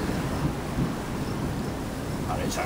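Thunder rolls through a thunderstorm over the mountains near Raton, New Mexico, a sustained low rumble with wind noise outdoors and faint voices in the background.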